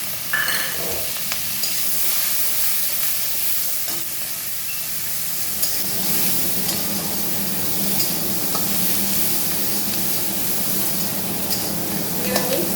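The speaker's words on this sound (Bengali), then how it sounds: "এবার দিয়ে দিলাম পেঁয়াজটা ঝিরিঝিরি করে কেটে রেখেছি, পেঁয়াজ কুচি" Finely chopped onions frying in a pan, a loud close sizzle with hissing steam that swells after the onions drop in, with occasional clinks of stirring and no talk.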